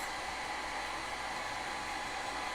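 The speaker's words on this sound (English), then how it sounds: "we've been doing the blow dryer and been okay with it so far" A blow dryer runs close and steady with a constant airy roar throughout, with no pauses and no voices.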